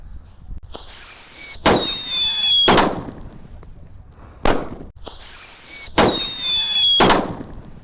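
Six paper-wrapped firecrackers, three Happy Power and three King Thunder, are lit together for Lebaran and go off as loud sharp bangs with shrieking whistles, in two bursts a few seconds apart, close by and with no talking.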